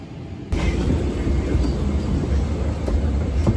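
Cabin noise aboard a Lufthansa Boeing 747-8i, a steady low roar that swells in suddenly and holds at constant loudness, with no voices over it.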